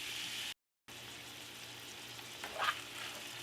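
Ground meat browning in a pan for carne con papas, a steady low sizzle throughout, with a brief dropout near the start and a short scraping stir partway through.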